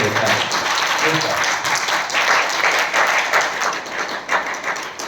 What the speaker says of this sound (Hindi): ये सब लोगों के लिए तालियां बजनी चाहिए